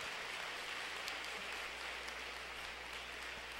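An audience applauding for Pope Francis, a dense, steady patter of clapping at a fairly faint level, uninterrupted for a few seconds.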